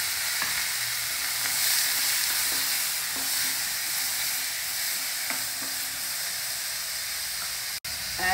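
Tomato and chopped brinjal fry in a pan with curry leaves and green chili, giving a steady, loud, close sizzle with occasional stirring scrapes and no talk.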